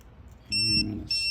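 Short, shrill electronic beeps from an Eggtimer Quark rocket altimeter reporting its last altitude sound close by, one after another with a brief gap between them, over a low rumbling background.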